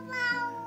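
A cat gives a single short meow, soft and fairly close, rising then trailing off in under a second with nothing else around it.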